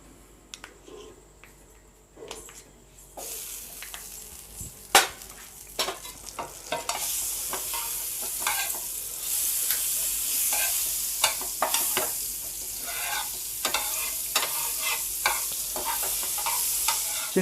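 Butter melts in a pan for a cheese bread omelette, starting quiet, then rising into a bright continuous sizzle with scattered stirring clicks and spatters.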